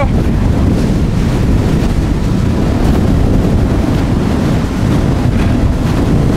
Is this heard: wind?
yes